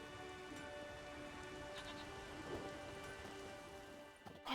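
Steady rain pours in The Witcher 3: Wild Hunt, a soft continuous hiss of falling drops with a faint low rumble beneath, holding evenly throughout without any voices.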